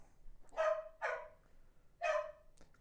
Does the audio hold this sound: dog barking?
yes